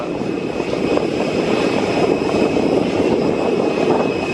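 An EasyJet Airbus A320neo lands at Luton Airport on a breezy evening, its engines a loud, steady roar with a broad rushing wash and a thin high whine held throughout, close by and alone without voices.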